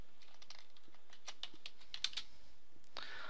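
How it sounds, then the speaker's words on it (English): Keystrokes on a computer keyboard as text is typed into a page, a quiet irregular patter of clicks with a few louder taps, no talking. "you can type text in directly onto this page"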